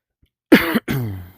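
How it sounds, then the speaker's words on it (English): A single harsh cough bursting out twice in quick succession, close and loud, with no speech around it. "I keep coughing today"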